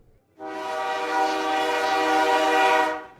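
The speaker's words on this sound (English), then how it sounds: "The train's moving." A magical train sounds a long, steady horn blast lasting a few seconds, loud and close, swelling in and then cutting off, with a low rumble beneath and no speech.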